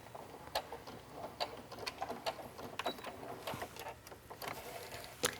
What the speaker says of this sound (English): just go along each edge, making sure you don't sew over any pins